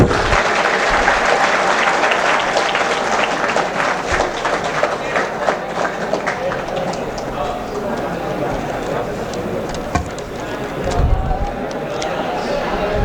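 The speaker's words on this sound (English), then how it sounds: "Give her a big round of applause, students." Students applaud at a graduation day award ceremony, a steady wash of clapping filling the whole stretch, loud and sustained with slight swells near the end.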